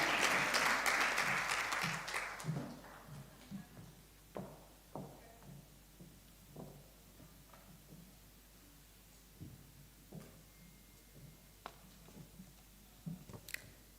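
Conference audience applause, a dense burst of clapping for the first two seconds that quickly fades to scattered individual claps and faint room noise.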